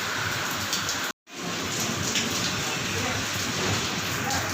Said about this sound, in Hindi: ये बारिश की आवाज़ इतनी अच्छी लगती है, tip tip tip tip tip tip गिर रही होती है बारिश